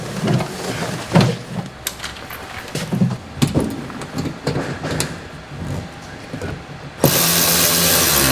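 A ratchet tightens mud guard screws on a Ford Raptor pickup, making close bursts of quick mechanical clicking with short pauses between, then ending in a loud, steady rush of noise.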